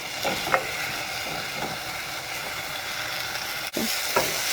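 Onion frying over high heat in a pan, a constant loud hiss and crackle close by, with a few soft knocks and one brief break near the end.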